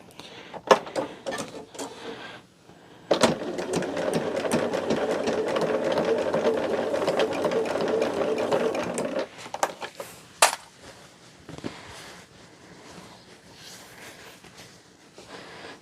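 A sewing machine stitches binding onto a baby quilt, running in one steady, close whirring burst of several seconds, with scattered clicks and handling knocks before and after.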